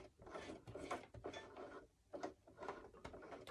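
A sewing machine stitches appliqué around the edge of a small fabric tree, running in short rattling bursts with brief pauses, close and quiet.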